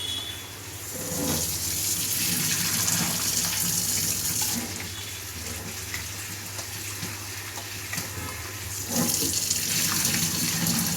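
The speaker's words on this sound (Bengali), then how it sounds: "আর এই যে মুসুর ডালটা ধুয়ে এখন দেব" Red lentils being washed under a running kitchen tap: a steady, loud gush of water pours continuously into the bowl and sink, swelling toward the end, with no talk.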